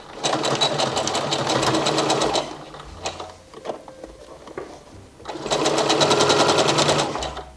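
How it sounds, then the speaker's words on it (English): A sewing machine at normal settings stitches the neckline of a shirred top, two steady loud runs of rapid mechanical whirring separated by a quieter pause with small handling clicks and knocks. "But first, sew the neckline. So my machine is at normal settings"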